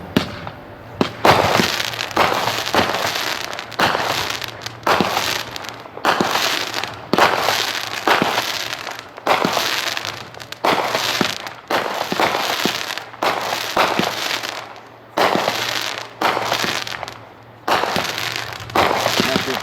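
A 25-shot Pyro Peppers firework cake of 200 grams with purple and green effects launches shot after shot in a steady, dense volley of loud pops and crackles, with a few short pauses.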